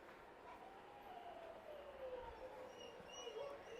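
Large dog Lola makes low, drawn-out groaning, whimpering vocalizations that sound almost prehistoric, fairly faint and continuous, with a thin wavering whine running throughout.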